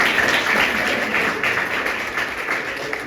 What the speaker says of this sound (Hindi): भैया एक बार बजा तो जोरदार ताली।